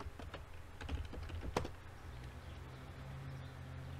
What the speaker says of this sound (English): So I'm going to type in 2015.